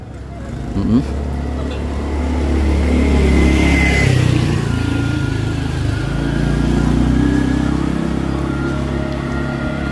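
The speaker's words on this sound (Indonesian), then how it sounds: "mohon maaf bila banyak suara kendaraan ya" Cars and motorcycles passing on a village road at night in Mekarbakti during Indonesian Independence Day lights, a continuous engine drone that swells as a vehicle goes by, with a voice talking over it.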